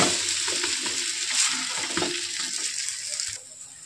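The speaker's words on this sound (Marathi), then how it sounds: "आता दुसऱ्या साइडनी पण आपण 2 मिनिटं हे चांगले फ्राय होऊ देऊ।" A Maggi noodle and egg omelette sizzles steadily in a pan after being flipped, a close, continuous frying hiss with faint crackles and occasional scrapes, no voices.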